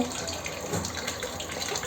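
Water runs and splashes steadily for a couple of seconds, like liquid being poured, with no talking.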